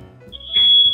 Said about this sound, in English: Oh, that's my fire alarm.